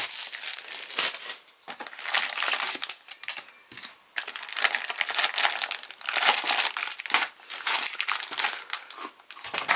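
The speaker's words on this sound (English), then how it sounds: "Let's unwrap the cellophane that it comes in and open up the stickers on the sides." Cellophane packaging around an Eachine TYRO69 toothpick drone kit is pulled and unwrapped up close, giving a long stretch of loud, dense crinkling and crackling that swells and dips without pause, with no talk.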